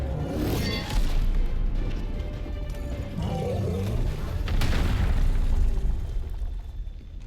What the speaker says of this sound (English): Didn't know it was a belt full of grenades.